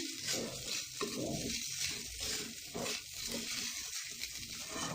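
Kanda poha being stirred and mixed in a pan, a steady scraping and soft sizzling with rhythmic spoon strokes, close and continuous, with no voices.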